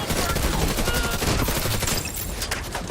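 Dense video game gunfire in The Division 2 fills the scene with rapid overlapping automatic bursts and shots, loud and unbroken throughout.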